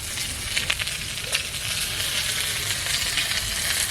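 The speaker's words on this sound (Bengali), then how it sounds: "মাছ ভাজা হয়ে গেছে, মাছটাকে তুলে নেব।" Freshly caught pond fish frying in hot oil makes a loud, dense, continuous sizzle close by, sprinkled with small crackles and pops.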